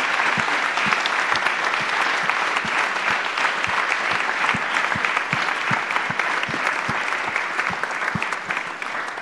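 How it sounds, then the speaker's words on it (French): A conference audience at a round-table discussion on biodiversity gives sustained, dense applause, many hands clapping steadily and loudly throughout without letting up. "On peut les applaudir."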